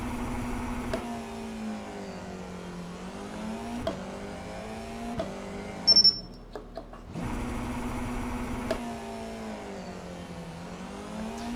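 A race car engine in the iRacing sim holds high, steady revs during a standing-start launch, a brief cut at mid-clip, then the revving resumes at similar pitch.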